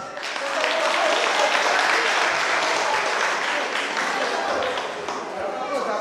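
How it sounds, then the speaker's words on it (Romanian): Audience applause at a Romanian folk festival of customs and traditions, a dense sustained clapping from a large crowd that swells in and holds steady for several seconds, with faint voices mixed in. "Vă rog să-i aplaudați!"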